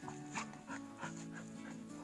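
Quick, breathy puppy panting repeats in a steady rhythm, soft and close, with a faint whine threaded through it, on an off-grid ranch in Arizona.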